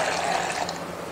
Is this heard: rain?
no